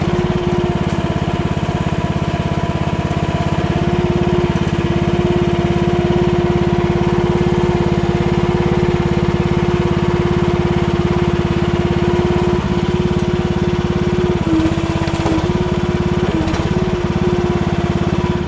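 An AGT H12R mini excavator's engine runs continuously while it picks up brush, a loud, steady mid-pitched drone with a constant tone and slight fluctuations as the machine works.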